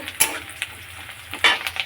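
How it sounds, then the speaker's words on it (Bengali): Chow mein frying in a pan with chili, onion and capsicum: short, sharp sizzling bursts and scraping stirs at close range, coming and going rather than steady. "চাউ হচ্ছে, লঙ্কা, পেঁয়াজ, ক্যাপসিকাম এখানে এই যে ভাজা হচ্ছে"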